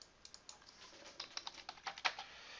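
Quick, uneven bursts of keystrokes on a computer keyboard as a file name is typed, a dozen or so soft clicks speeding up toward the end, close and quiet with no talking.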